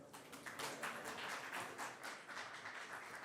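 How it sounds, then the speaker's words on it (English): Audience applause at a startup pitch competition as a robotics presenter comes to the stage: steady, moderately distant clapping from a crowd that swells and holds across the moment without talk. "Please applaud for him."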